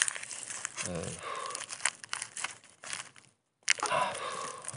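Thin protective film crinkling and crumpling close up as it is peeled off sandwich metal roof panels, in busy bursts with a short silent gap, while a person talks over it.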